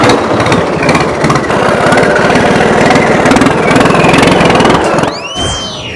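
A diesel tractor engine runs loud and close with a steady rough throb. Near the end it eases off and a brief high whine sweeps upward.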